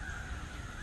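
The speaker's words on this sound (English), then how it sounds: "The crows are cawing in anticipation of what's to come." Crows caw outdoors in a short, faint burst, with a harsh call sitting over quiet background noise.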